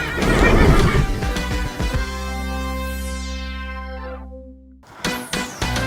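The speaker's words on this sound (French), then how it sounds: "ça, c'est mon cheval." A horse lets out a loud, drawn-out whinny that trails off in a falling, quavering pitch, followed by a short pause and a few sharp knocks and rattles.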